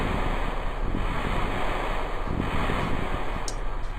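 Ocean waves and wind after a space capsule splashdown in Kerbal Space Program, a steady loud rushing wash of surf with gusty wind noise throughout.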